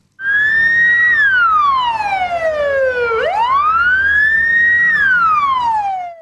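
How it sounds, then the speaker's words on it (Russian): An ambulance siren wails loudly on a city street, one long rising and falling tone that sweeps down, jumps back up and falls again, close and clear with no talk. "Вой сирены на улице Полевая заставил оглянуться всех прохожих."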